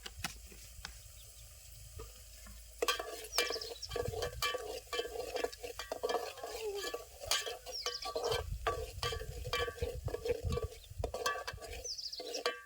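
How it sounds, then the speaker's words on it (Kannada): Spices with coriander, mint and turmeric sizzle in hot oil for a mutton curry. A spoon stirs and scrapes the pan in irregular clattering strokes over a steady low bubbling frying hiss, close and alone. "ಎಲ್ಲ ಮಸಾಲೆ ಮಸ್ತ್ನಾಗಿ ಈ ರೀತಿ ಕುದಿದ್ರಿ ಎಣ್ಣೆ ಒಳಗೆ"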